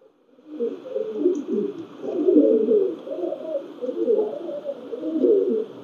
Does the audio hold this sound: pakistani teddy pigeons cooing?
yes